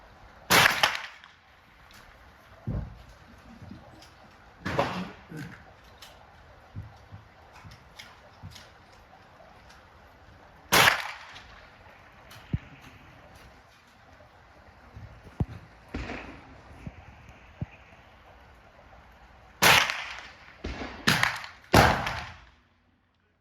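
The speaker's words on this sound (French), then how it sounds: "Les 3 premiers tirs à 50 mètres sont faits avec un réglage au laser" Rifle shots from a rifle fitted with a Fire Wolf 6-24x50 scope at a 50-metre range, with sharp isolated cracks spaced several seconds apart and a quick cluster near the end, all over a quiet background.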